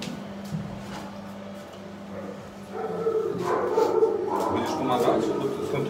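Several puppies bark and whimper with high, yipping cries, close by in a rescue setting for abandoned pets near Ukraine, growing busier in the second half while people talk over them.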